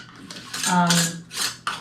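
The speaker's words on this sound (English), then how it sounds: "Basic canning jar lid, 2-piece lid. Just put that loose lid on top." A loose two-piece canning jar lid is set on top of a jar: a short run of close metallic clinks and light scraping rattles, with a sharp click at the end.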